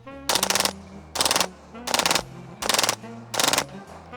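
A Kriss Vector fitted with an FRT trigger fires five loud, rapid bursts in steady succession, each a dense rattle of shots followed by a short pause, sounding close and sharp.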